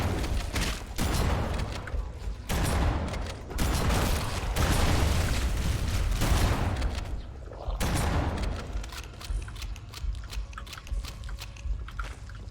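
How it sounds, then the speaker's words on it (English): Explosions in a video game, heavy booming blasts and rumbling bursts that rise and fall in dense waves, loud and continuous throughout. "we need to watch out for the explosions"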